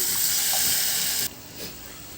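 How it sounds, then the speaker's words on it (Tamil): Water pours steadily into a pan with a broad hissing splash, then stops abruptly partway through, leaving quiet kitchen background. "தண்ணி சேர்த்துக்குவோம்."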